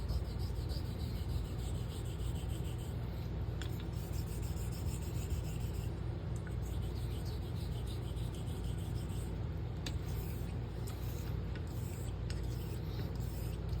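A straight razor honed on slate with pink slurry, making a steady, continuous gritty rubbing rasp at close range that holds an even level throughout with no talk.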